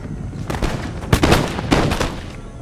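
Musket volley fire in the Empire Total War game, from the Road to Independence campaign: dense, overlapping bursts of gunfire crackle continuously, with loud peaks of shots clustering near the start, the middle and the end.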